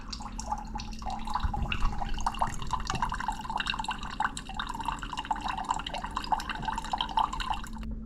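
A Keurig K Slim coffee maker runs a vinegar descale cycle, liquid trickling and dripping steadily into a cup over a low mechanical hum, continuous and close.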